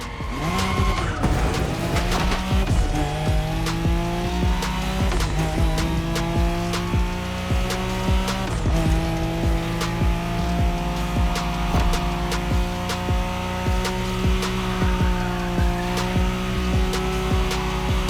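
Tires squeal continuously through long drifts in The Crew Motorfest, the car's engine droning and shifting pitch beneath the screech, loud and close with no talk.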